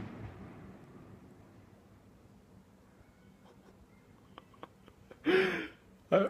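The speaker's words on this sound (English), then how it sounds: "It was like a firework or something" A firework going off outside at the end of a block: after a long, quiet stretch of faint background noise, two sharp, loud bursts crack out close together near the end.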